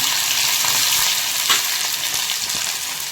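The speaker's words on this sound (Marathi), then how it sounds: "मस्त असा कांदा ब्राऊन होईपर्यंत भाजून घ्यायचा आहे" Onion with crushed garlic and green chillies frying in oil until brown for a dried Bombay duck chutney, giving a loud, steady, dense sizzle with a few soft stirring scrapes and no talk.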